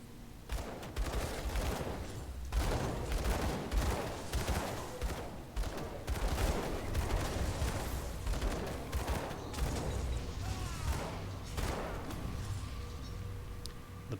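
Arcane bomb explosions in Grim Dawn, a dense, rolling barrage of rapid blasts and crackling bursts that runs almost continuously and stays loud the whole way through.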